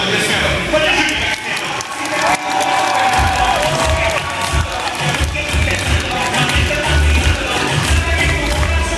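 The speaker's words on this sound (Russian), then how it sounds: "Это достойно аплодисментов." Loud audience applause and cheering for a globe of death show with seven motorcycles riding inside a steel sphere, sustained clapping and shouts filling the space.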